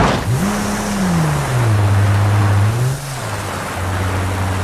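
Simulated car in the BeamNG driving game, engine droning and shifting pitch as it revs, with a rough rushing noise through the short stretch.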